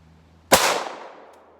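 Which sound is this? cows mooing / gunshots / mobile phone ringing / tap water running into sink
gunshots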